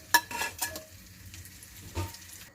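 Chopped apple frying and being stirred in a pan for a mango chutney chicken curry, faint sizzling with a few scraping stirs and soft clinks of a utensil against the pan.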